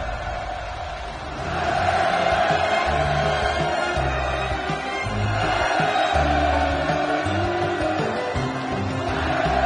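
A large crowd roars and cheers at a ceremony launching a Korean People's Army Navy destroyer, a massed surge of voices that swells loud after a quieter start and rolls on in waves.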